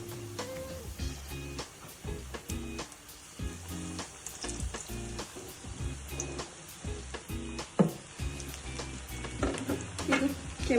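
Eggplant fritters (brinjal bajji) coated in batter frying in hot oil, a steady dense sizzle and crackle with scattered pops, loud and continuous throughout.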